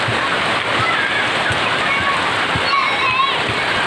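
Children splash about in the first rain of the morning, a continuous rush of falling and splashing water with a voice talking throughout.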